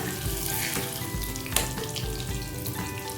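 Pieces of katla fish frying in hot oil in a pan, a loud, close crackling sizzle with occasional spatters and a sharp clink, no voices.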